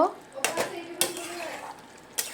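A lid is lifted off a pot of cooking young jackfruit, with a few sharp metallic clanks and scrapes over a quiet, low simmering background.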